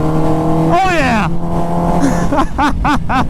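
A 1200-horsepower race Lamborghini screams past up close, its turbocharged engine spooling with a rising whine and then a sharp pitch drop as it goes by, followed by loud talk and laughter nearby.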